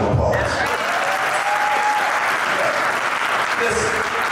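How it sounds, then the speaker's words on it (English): Sustained crowd applause fills a gala hall for the Clark County Law Foundation, steady and dense throughout with a few louder shouts rising near the end. "y'all give my district a big round of applause"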